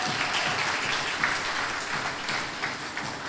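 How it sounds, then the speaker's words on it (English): An audience at an award ceremony applauds steadily, with dense, even clapping close by throughout. "Give Akil a round of applause."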